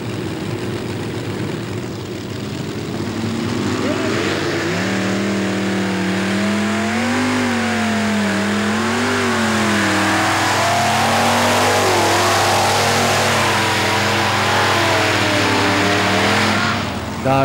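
A tractor-pulling machine with four supercharged Chevy engines roars loudly and continuously at a 1994 pull in Erkelenz-Holzweiler, Germany, its engines howling and wavering in pitch as it hauls down the track for many seconds.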